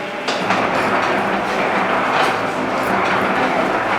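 A woodworking cutter with a freshly oiled blade cuts a groove in veneer, giving a loud, steady, continuous machine roar that holds for the whole stretch, close by, with no talking.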